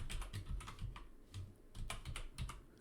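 Quick bursts of close keyboard typing, clustered keystrokes with short pauses in between, as data is entered into a database editor on a computer.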